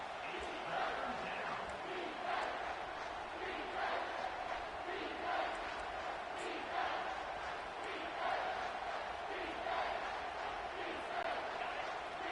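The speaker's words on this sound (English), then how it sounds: "And the crowd coming to life here, trying to help this defense down in the red zone." Stadium crowd in a college football video game, Sam Houston against Michigan, roars steadily with swelling cheers as the home defense is backed into the red zone, a dense constant wash of voices with bursts rising throughout.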